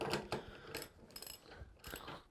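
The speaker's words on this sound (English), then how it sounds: "Grab my socket wrench." A socket wrench ratchets on a nut in quick bursts of crisp clicks, close and fairly quiet with brief pauses between strokes.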